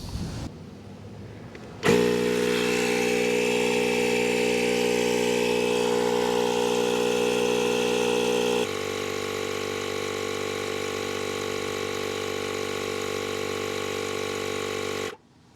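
A Milwaukee M12 cordless inflator starts abruptly and runs for about thirteen seconds pumping up a tire toward 50 psi, a loud steady mechanical drone that drops slightly in pitch partway through before shutting off.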